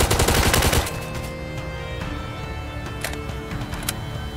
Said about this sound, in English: I activated this turret to help me shoot